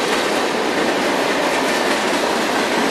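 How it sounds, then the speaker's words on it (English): A high-speed train rushing past close by, a loud continuous roar of wheels and wind that holds steady for the full three seconds with a faint rhythmic clatter beneath. "high-speed train graffiti capture"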